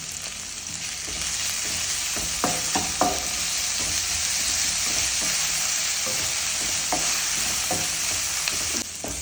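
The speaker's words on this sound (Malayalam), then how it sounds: "എന്നിട്ട് കുറച്ച് ഉപ്പ് ഇടുക, ഉള്ളി ഒന്ന് വഴഞ്ഞു വെക്കാം." Onions with a little salt sauté in a pan for Kasaragod-style chicken upperi, a steady close sizzle with scattered stirring scrapes and clicks of a spoon, no voices.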